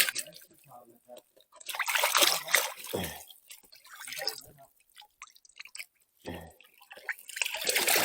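Water splashes and trickles while meat is washed clean outdoors, with irregular pouring and dripping bursts at close range, and a voice speaks in between.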